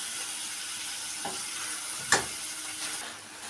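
Onions frying in a pan make a soft, steady sizzle and hiss throughout, with a couple of faint clinks of a utensil in the middle.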